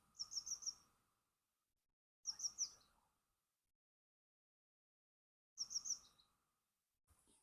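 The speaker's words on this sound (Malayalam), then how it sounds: "കിളികളുടെ ഒച്ചയും മഞ്ഞും." Birds chirp on a misty morning in rural Kerala in three short bursts of quick, high tweets separated by silence, with a fourth starting at the end, faint and clear against a quiet background.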